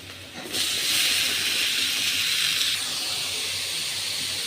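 Boiled cabbage is dropped into a pan of browned frying onions, setting off a sudden loud, steady sizzling hiss that stays strong and close, easing slightly toward the end.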